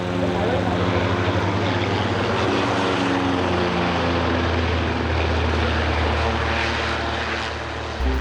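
A Bulldog propeller trainer aircraft flies at the Göteborg Aero Show, its steady engine drone loud and continuous throughout as it passes, easing slightly at the end.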